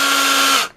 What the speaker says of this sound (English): Now see how I put it into this drill? Yank it away. And just wind it.